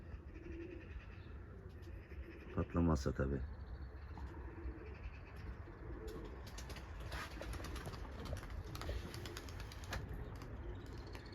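Pigeons coo softly at a distance under steady outdoor background noise, with a brief louder burst and a few words spoken; Turkish tumbler pigeons being flown in training.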